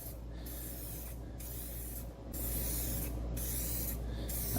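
Spray paint hisses in long, steady passes onto a Ducati Monster fuel tank, each burst broken by short pauses, close and fairly loud with no talking.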